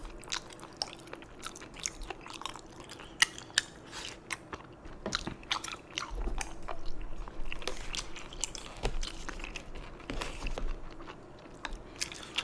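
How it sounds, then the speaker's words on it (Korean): Someone eats spicy mala xiang guo with chewy noodles close to the microphone, giving soft wet chewing, slurping and occasional crunchy bites at an irregular pace, with no talking. "마라샹궈 진짜 오랜만에 먹는데 맛있네요"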